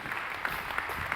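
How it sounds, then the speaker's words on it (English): Audience applause closing a tech cloud panel at a Paris conference, a steady wash of clapping from the hall with a few sharper claps standing out, quiet and distant. "Round of applause"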